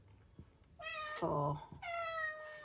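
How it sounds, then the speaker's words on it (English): A house cat meows twice, loud and close, in drawn-out calls separated by a short pause, while a woman briefly counts aloud during crochet work. "Excuse my cat."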